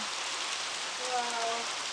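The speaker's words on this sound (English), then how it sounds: "look at all the rain on the car" Steady broadband patter of rain drumming on a hard surface, continuous and fairly close, with faint voices mixed in underneath.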